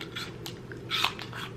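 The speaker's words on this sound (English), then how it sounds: "Mmm, Honeycrisp apples. Best apples, period." A crisp bite into a Honeycrisp apple, a short crunchy burst at close range followed by a few soft chewing crunches over a quiet room background.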